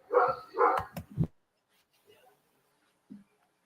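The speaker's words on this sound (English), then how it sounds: "Let me go see the fuck this dog barking." A dog barks several times in quick succession close by, the barks clustered at the start, followed by near silence broken by a couple of faint, brief sounds.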